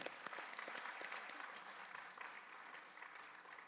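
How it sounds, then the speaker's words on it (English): An audience at a Bharatanatyam arangetram recital applauds the dancers, a dense, even spread of many hands clapping heard at a moderate distance and fairly soft, continuing without a break throughout. "Let's give them a big round of applause."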